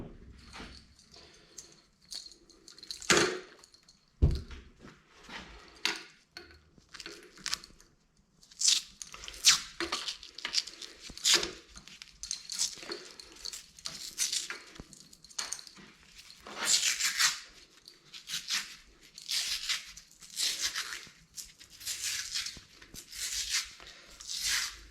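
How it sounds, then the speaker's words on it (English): Electrical tape unrolling and being wrapped around wires, heard as a run of crackling, sticky tearing bursts and rustles at close range, growing denser and louder in the second half with no talk. "So I'm just gonna tape this back up real quick."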